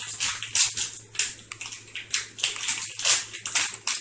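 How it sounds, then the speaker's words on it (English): Liquid poured off a pan, a close, wet splashing pour coming in repeated uneven gushes over a faint low hum, with no talk. "I don't want to spill it when I try to get this pan drained off"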